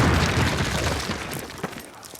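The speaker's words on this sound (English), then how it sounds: "Place your explosives on the cinder block wall." Explosives detonate against a cinder block wall in the Call of Duty PC game, a loud sustained boom with a rumbling, crackling tail that fades out over about two seconds.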